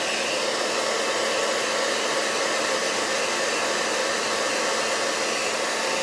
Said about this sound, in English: So I'm going to just blow dry real quick.